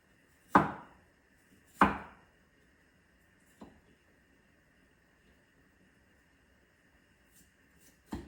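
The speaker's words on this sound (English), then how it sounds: "I'm going to chop those into like slices." Chicken is chopped into slices on a cutting board with a few sharp, widely spaced knife strikes: two loud chops close together, a softer one, then quiet before another hit.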